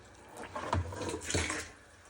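A borehole well about 15 metres deep runs with water flowing through it, giving a steady, fairly quiet rushing hiss that swells slightly twice over a couple of seconds.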